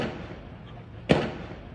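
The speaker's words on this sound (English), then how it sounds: "Then the gunshots continued." A single sharp gunshot cracks out mid-clip during a foiled prison jailbreak at Ikoyi, Nigeria, loud against a steady rumbling background with faint murmuring.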